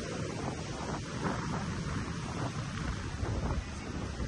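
Strong Typhoon Carina winds roaring along a coast with surf churning near moored boats, a continuous loud rumbling wash of wind and waves buffeting the microphone, no talk.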